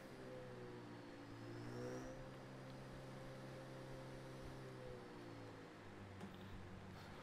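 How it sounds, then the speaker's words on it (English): A race car engine in Project CARS 2 hums faintly at a steady pitch, with one slow upward sweep partway through. No talking is heard. "Ooh, I love that engine sound."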